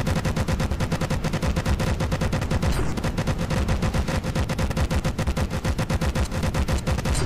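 Close-range defence guns in From The Depths fire in a rapid, unbroken stream of loud, evenly spaced shots for the whole stretch, with no voices over them.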